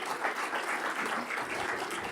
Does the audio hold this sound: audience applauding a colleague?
yes